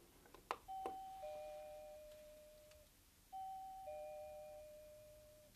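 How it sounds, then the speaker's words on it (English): A doorbell rings twice, each a clear two-tone ding-dong that sustains and fades, the second following a few seconds after the first, fairly quiet and with no talking. "ring the doorbell again?"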